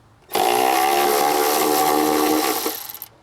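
A power tool, likely an impact driver, spins off a 13 mm bolt beneath a car battery in one loud continuous whirring burst of about two and a half seconds that trails into brief stuttering pulses as it stops.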